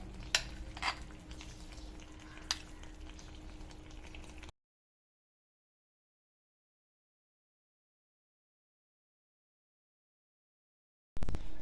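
Ghee being stirred into semolina halwa in a pan: a few seconds of soft scraping and clinks over a low, steady cooking hiss, then abrupt silence, with a brief return of sound at the very end.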